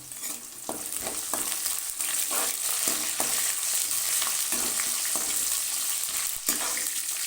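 Onions frying and stirred in a pan of hot oil, a loud continuous sizzle broken by repeated scraping strokes of the spoon.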